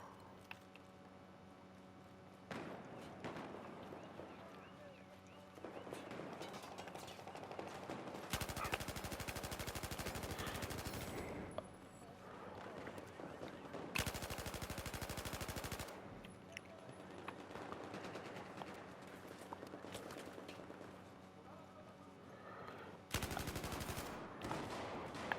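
Bursts of rapid gunfire in Battlefield 4 ring out in several long volleys, separated by quieter stretches of lighter shots and background game noise.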